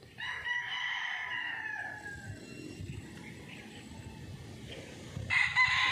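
A gamecock rooster's crow trails off nearby, followed by low background noise and a short burst of another crow or squawk near the end.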